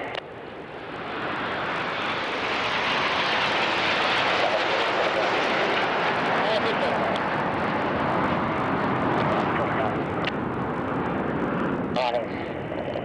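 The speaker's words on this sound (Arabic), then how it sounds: "تقوم 5 طائرات بإنزال عجلات الهبوط والطيران بتشكيل متقارب" Saudi Hawks jet aircraft fly a low, slow close formation with landing gear down, producing a loud, broad jet roar that swells and holds steady as they pass over.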